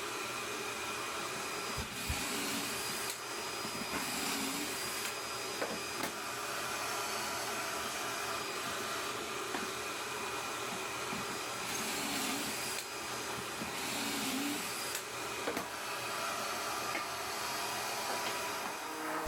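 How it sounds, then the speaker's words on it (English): A drill bores pocket holes into 2x4 lumber, two per side on a single face. The whirring whine runs loud and steady for the whole stretch, with slight dips and surges and no talking. "Give them pocket holes, 2 per side on a single face."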